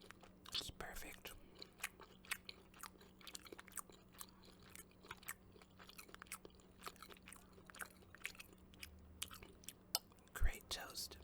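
Broccoli and tofu being bitten and chewed up close for ASMR, a quiet run of soft crunches and wet mouth clicks at irregular intervals, with a louder bite near the end.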